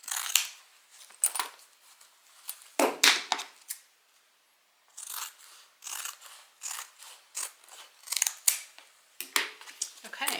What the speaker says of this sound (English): I'm just going to go ahead and cut that off so it doesn't get in the seam allowance of my gusset